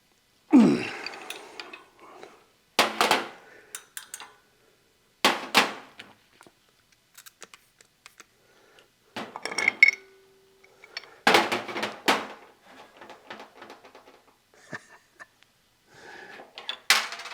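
Tool work on a CO2 tank fitting, with scattered metallic clanks, ratcheting clicks and knocks in irregular bursts, close by, separated by quiet gaps and one brief steady hissing tone.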